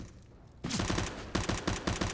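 Gunfire in a Counter-Strike match on the Mirage map at a DreamHack Masters tournament: a quiet stretch, then sudden rapid bursts of shots in quick succession, loud and close.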